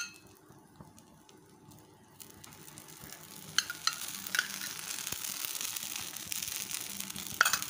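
Oil trickled around the edge of a butter sponge dosa on a hot pan sets off a soft sizzle that swells louder and denser partway through, crackling steadily with no talking.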